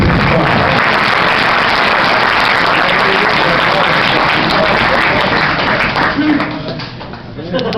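A crowd at a high school boys basketball banquet breaks into dense, sustained applause that fills the room steadily, then tapers slightly near the end, with voices mixed in.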